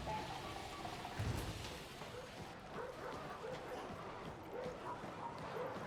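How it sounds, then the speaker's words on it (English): Dogs barking in a video game during a live stream, several faint barks and yips repeating in the distance under game noise and background sound. "I still hear all the dogs"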